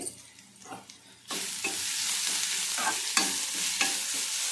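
Grated carrot dropped into a hot pan of tempering spices with turmeric and salt, sizzling loudly and steadily after a quieter start, with repeated scraping stirs of a spatula; no talking.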